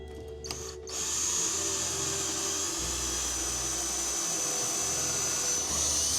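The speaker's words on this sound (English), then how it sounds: "I'm about to drill a pilot hole through the floor to see where it comes out." A power drill whines steadily at high pitch after a brief start, drilling a pilot hole through an ambulance floor, running continuously up close with a low hum underneath.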